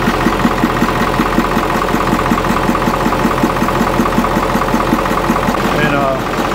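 A Caterpillar 3208 marine diesel engine running at a steady idle, a loud, close, rhythmic low chugging that continues evenly throughout, with speech over it.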